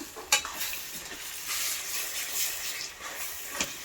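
Egg bhurji made from six beaten eggs is stirred in a hot pan, a soft continuous sizzle with brief spatula scrapes at the start and end.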